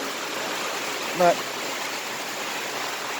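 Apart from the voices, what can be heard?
rain falling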